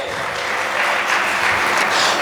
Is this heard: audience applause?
yes